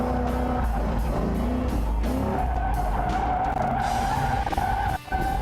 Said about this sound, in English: Now we can drift it, get it sideways